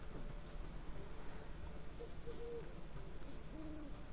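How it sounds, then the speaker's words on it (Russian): An owl hoots faintly in the video game The Witcher 3, with a few soft calls rising from a low, windy ambient background. "Филин, прикольно."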